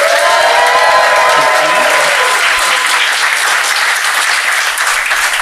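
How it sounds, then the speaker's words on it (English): A live podcast audience at the Do Go On show bursts into sustained applause, dense clapping and some cheering filling the room loudly for several seconds before easing slightly. "give us a round of applause if you've ever heard Do Go On before"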